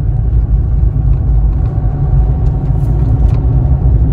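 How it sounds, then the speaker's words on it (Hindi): A car engine pulls hard under heavy acceleration, a loud, steady low rumble from inside the cabin as the automatic gearbox shifts on its own, with no talk over it. "जैसे ही मैं इसको थोड़ा हार्ड एक्सलेट करूंगा हार्ड करते ही ये अपने आप गियर चेंज कर देगी"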